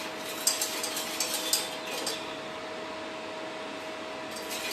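A spoon clinks and scrapes as an agar agar mixture is stirred in a pan over a slow flame. The taps come quickly at first, then fade to a faint background hum.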